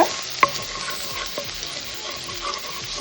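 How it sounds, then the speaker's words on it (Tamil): Steady sizzling of finely chopped white onion frying in butter, with occasional stirring clicks and a sharp scrape near the start. "இதை நல்லா பட்டரில் நல்லா ஃப்ரை பண்ணுங்க"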